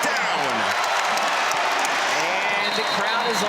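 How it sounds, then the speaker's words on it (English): A basketball arena crowd roars and cheers after an emphatic dunk in an ACC men's college game, a sustained dense wash of noise from many people. "And the crowd is on their feet."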